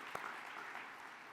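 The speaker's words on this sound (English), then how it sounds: "I think it deserves a round of applause." Applause from a commencement audience at Miami-Dade College's Kendall Campus, a steady broadband clatter of clapping filling the short stretch at moderate distance.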